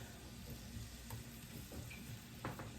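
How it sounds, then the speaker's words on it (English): Sliced carrots fry in a pan over medium heat, a steady low sizzle and crackle with a few light stirring clicks, close and continuous. "We're going to continue to cook these carrots over medium for 4 to 5 minutes."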